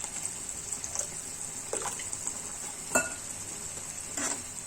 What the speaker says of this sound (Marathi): थोडं पाणी मी ऍड करते इथे।